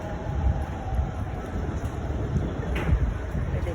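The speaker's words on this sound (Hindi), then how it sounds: "साथ में आप देखिए ये मेट्रो जा रहा है।" A metro train passes on an elevated line beside a busy commercial street in Greater Noida, giving a steady, rumbling roar with wind-like noise that stays fairly constant throughout.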